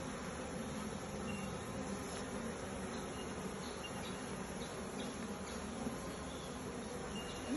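Honeybees buzz continuously around an open hive during a split and queen search, forming a dense, even drone close by that stays steady throughout with no talking.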